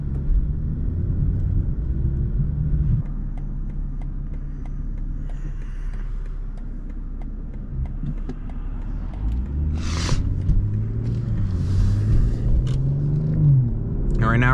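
Cabin of a 2022 BMW M240i xDrive on the move in comfort mode, a steady low road and engine rumble throughout, with brief higher whooshes partway through.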